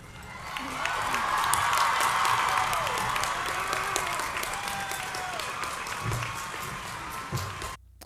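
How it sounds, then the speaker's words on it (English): An audience bursts into sustained applause with some cheering at the end of a speech about abortion rights by a high school student, the clapping swelling and holding for several seconds before tapering off. "Everyone starts clapping"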